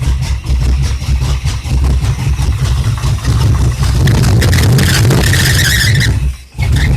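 A 1979 Chevy Monza V8 with an aggressive cam idles loudly up close, its lopey, uneven rumble steady for several seconds before briefly dipping near the end, with a faint squeal riding over it.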